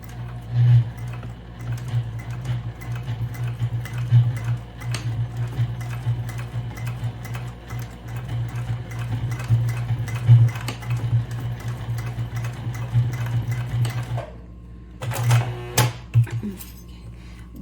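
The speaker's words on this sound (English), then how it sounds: "and then I'm going to start to sew." A sewing machine stitches a bag in a steady run of rapid ticking needle strokes with a low motor hum, close and continuous, pausing briefly near the end before a few final stitches.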